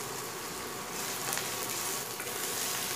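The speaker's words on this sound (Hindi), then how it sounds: "उन सबको गोल्डन ब्राउन भून लेते हैं।" Steady, dense sizzling of onion, red and green chilies, ginger and bay leaf browning in hot oil in a pan, close and continuous with no voices.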